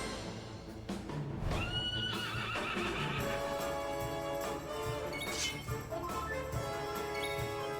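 A horse in the video game Dragon Quest XI whinnies loudly as the rider dismounts, a rising and falling neigh with light hoof clip-clops, close and clear with game sound behind.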